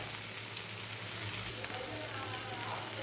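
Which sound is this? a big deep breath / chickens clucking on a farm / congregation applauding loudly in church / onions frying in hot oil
onions frying in hot oil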